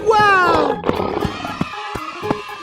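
A loud, close lion roar from a game's animal sound effect, a rising and falling growl at the start, followed by scattered thumps and clicks.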